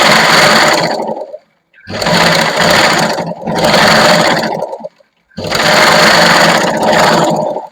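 A sewing machine stitches the sleeve of a lined kurti in loud, close bursts of rapid needle clatter, four runs separated by brief pauses.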